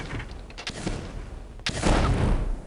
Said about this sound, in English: the constant explosions are gonna make it a bit more annoying than it should have been